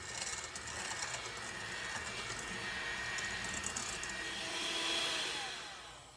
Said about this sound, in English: And now I'm just gonna whisk.